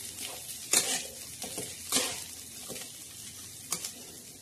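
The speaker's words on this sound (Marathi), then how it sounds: "आता आपण चांगलं असं हलवून घेऊया" Spicy poha with onion, green chillies, peanuts and coriander is stirred in a pan over a low flame: a few scraping strokes stand out above a soft, steady sizzle, with no talking.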